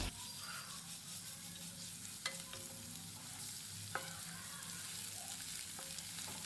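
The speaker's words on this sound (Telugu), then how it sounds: "ఈ రెసిపీ కోసం మనం ఉల్లిపాయలను బాగా ఫ్రై చేయాలి. ఇలా బ్రౌన్ కలర్లోకి వచ్చేదాకా ఫ్రై చేయాలి" Onions frying in a pan for chicken kurma hiss with a continuous, fairly quiet sizzle, broken by a few sharp taps and scrapes of a spatula as they are stirred toward browning.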